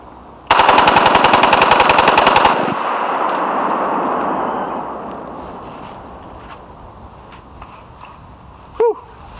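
An FN FNC rifle fires one long full-auto burst of rapid, evenly spaced shots, loud and close. The echo rolls away afterwards, followed by a brief metallic clink near the end.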